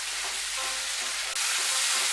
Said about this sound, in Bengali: এখন আমি আলু পটল মশলা সব একসঙ্গে আরেকটু ভালো করে ভেজে নেব।